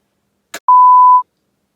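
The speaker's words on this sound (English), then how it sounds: "sometimes this noise makes a freaky alarm" A short click followed by a single sustained electronic beep, clean and steady for about half a second, then silence.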